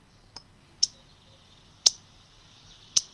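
An Indigo Bunting gives its call: four sharp, high, dry chip notes spaced about a second apart. They are faint and isolated over a soft hiss.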